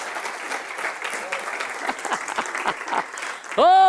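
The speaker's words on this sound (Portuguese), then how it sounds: "dê um aplauso forte para o Senhor Jesus" A church crowd claps steadily throughout, dense and lively, before a sustained amplified tone swells in at the very end.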